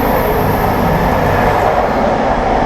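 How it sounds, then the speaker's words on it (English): Train passing by a haunted mill, heard as a loud, steady, close rushing rumble of rail wagons with no break, no talk over it. "there's a train going past"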